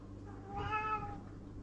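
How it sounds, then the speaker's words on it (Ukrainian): A cat meows once, a drawn-out, clear call close by during a quiet pause in a workshop where a Si Tech inflator valve is being serviced. "кіт також нам підказує"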